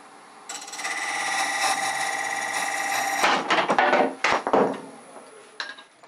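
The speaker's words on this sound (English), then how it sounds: "you can see where I got a catch where it's just too much steel on that dried wood" A gouge catches and digs into dried wood on a wood lathe, cutting a steady whirring tone off into a few sharp knocks and rattling clatters before the spinning winds down.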